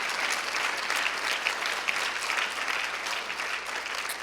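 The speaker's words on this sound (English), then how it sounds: "Let's give them a round of applause" Audience at a Functional Aging Summit conference applauding its board members, a steady dense wash of clapping from a crowd that holds evenly throughout without voices.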